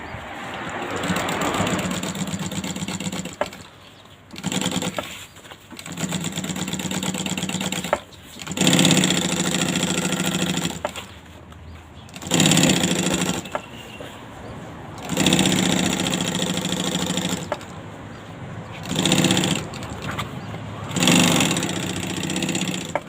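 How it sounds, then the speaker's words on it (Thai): Sewing machine stitching a curved seam around the heel of a shoe, running in repeated bursts of steady whirring separated by short pauses, close and loud with no talk. "นะวิธีเย็บนะคะอันนี้คือเข้าโค้งนะคะ"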